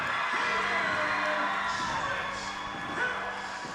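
A basketball crowd at a Clay County vs Jackson County game keeps up a steady, noisy roar, with scattered shouts and whoops over the cheering.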